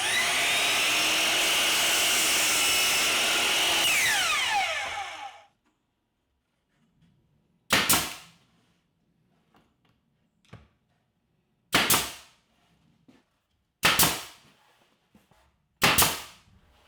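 A pneumatic nail gun fires four sharp, separate shots into a plywood cabinet face frame, each a loud crack with a hiss, spaced a couple of seconds apart, after a loud whooshing noise that cuts off into silence.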